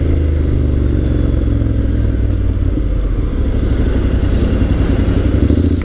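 Honda X-ADV 750 scooter-style motorcycle engine on a test ride, a loud close rumbling drone with shifting pitch as it drops a gear, wind and road noise mixed in.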